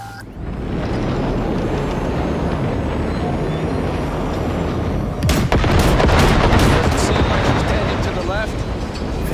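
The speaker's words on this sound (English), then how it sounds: "Just keep shooting at those rust buckets." Heavy, continuous gunfire from a shooting sequence in the video game Cyberpunk 2077, loud and sustained with booming blasts that swell near the middle, dense and relentless throughout.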